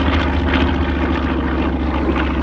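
A WW2 Grumman Avenger TBM torpedo bomber, built by General Motors, drones overhead with a loud, steady radial-engine and propeller roar that holds constant throughout.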